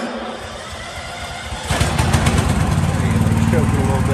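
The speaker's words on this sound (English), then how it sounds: "Choke it a little bit, she'll fire right up there." The engine of a 2007 Somero Copperhead XD2.0 laser screed cranks, catches after choking and settles into a loud, throbbing, rough idle close by.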